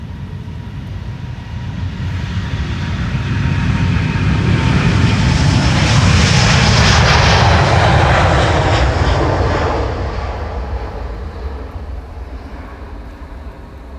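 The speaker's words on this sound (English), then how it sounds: "It's time for Delta Airlines Flight 161 to Minneapolis to be on its way." A Delta Airlines Airbus A350 takes off from Schiphol's Polderbaan runway, its jet engines swelling from a distant rumble to a loud roaring peak as it passes, then fading away again.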